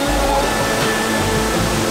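A waterfall in rural Lombok roars steadily, a dense, even rush of falling water heard up close that fills the whole clip.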